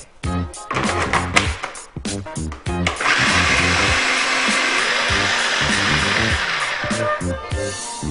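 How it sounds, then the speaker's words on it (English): A food processor whirs steadily for several seconds, blending garlic, ginger and other seasonings into a paste for Caribbean rice and peas, after a few brief knocks and clatters at the start. "we're going to put everything in the food processor"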